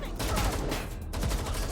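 Dense bursts of video game gunfire from Watch Dogs: Legion rattle through a hostage rescue firefight, loud and continuous, with overlapping shots under a murmur of voices.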